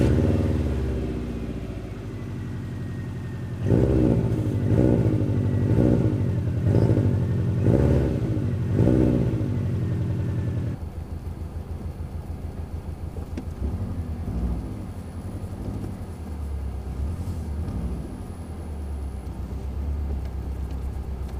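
A 2004 Subaru WRX with an aftermarket muffler cold-starting: a brief crank, then the engine catches into a loud, high, rhythmically pulsing idle before settling to a lower, steadier idle, close by and with no talking.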